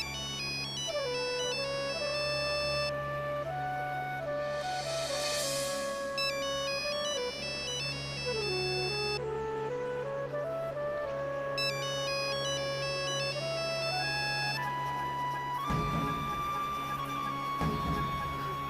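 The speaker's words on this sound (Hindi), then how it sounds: "घंटी यहीं कहीं बज रही है।" A melodic phone ringtone plays loudly and continuously, looping its bright electronic tune over and over, with a brief clatter near the end.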